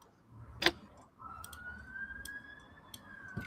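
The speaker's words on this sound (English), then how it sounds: "Sirens are off again." A police-style siren holds a long, steady wailing tone in the middle distance, heard alone after a sharp click, with a few faint clicks around it.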